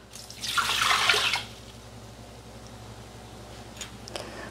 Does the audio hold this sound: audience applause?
no